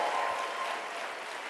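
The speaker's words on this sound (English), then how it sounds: "a huge round of applause to the 5 finalists and to everybody in this room" Audience applause in a conference room at a student plenary meeting, a dense, continuous wash of many hands clapping.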